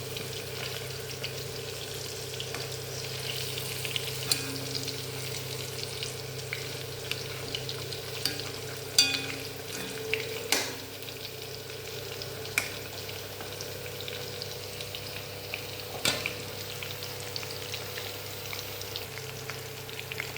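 Chicken curry with pepper powder and masala frying in a pan, a soft steady sizzle under occasional faint scrapes and knocks of stirring, with no talk.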